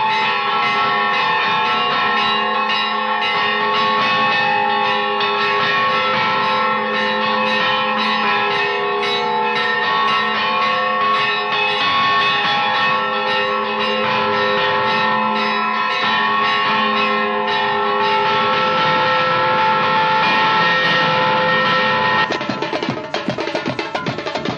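Church bells ring out the Zé Pereira tune, a steady, sustained peal of overlapping resonant tones that carries without a break for over twenty seconds, loud and clear.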